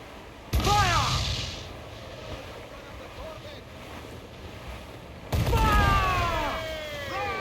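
Cannon broadsides fire from a pirate ship in a naval video game: two loud booming blasts several seconds apart, each trailing off over steady wind and sea wash.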